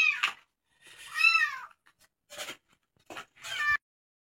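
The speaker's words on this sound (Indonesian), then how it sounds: "Ada kucing, belum ngasih makan kucing guys." A cat meows close by, several distinct meows of varied pitch spaced across a few seconds, on an overcast day with no talking.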